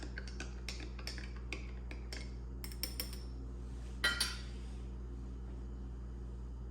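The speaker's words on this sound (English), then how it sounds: "Let's give it a quick mix." A spoon stirring a cooled espresso shot in a small cup, a series of light metallic clinks and taps at irregular intervals, close but soft over a low steady hum, no talk.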